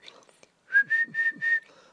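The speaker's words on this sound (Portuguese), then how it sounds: "Eu até sei assobiar e vou provar aqui" A person whistles a short melody of four sustained, evenly spaced notes, clear and close, after a brief quiet start.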